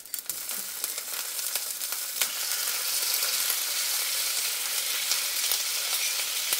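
Octopus pieces with spicy pepper fry in a pan, making a dense, continuous sizzle and crackle with occasional sharp pops, close and fairly loud, with no voices.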